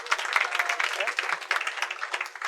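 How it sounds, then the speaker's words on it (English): An audience at a stand-up comedy club claps throughout, a dense, close burst of applause that fills the whole moment. "Where are the other Catholics in the house? By applause."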